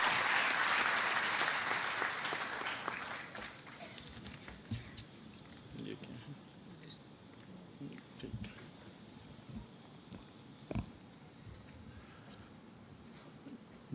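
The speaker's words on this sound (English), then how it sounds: "Please welcome with a round of applause, Shri Rahul V. Karat." Audience at a Teacher's Day and foundation day celebration in Pune applauds to welcome a keynote speaker; loud clapping at first that thins to scattered claps and fades over about fourteen seconds.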